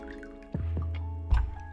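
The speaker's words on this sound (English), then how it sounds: "there's just a simplicity to having a bowl that you can remove the lid, pop it off, and then just pour" Tea poured from a lidded gongfu bowl gives a soft liquid splash and steady trickle, two short pours close by over a low background hum, with no talk.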